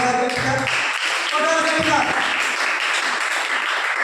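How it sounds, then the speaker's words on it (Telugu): A church congregation claps together in a steady, dense wash of applause that carries through the whole stretch, with a voice briefly heard speaking over it at the start. "చప్పట్లు కొట్టున్నారు."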